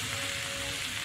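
Jackfruit and potatoes fry in a pan with a close, steady sizzle and crackle that holds evenly throughout the short moment, with no talking.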